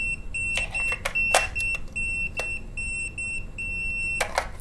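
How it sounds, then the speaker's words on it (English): A high-pitched low-battery beep from an Inkbird wireless thermometer chirps in short repeated pulses, mixed with clicks and handling clatter nearby. "It's got a battery beep on it."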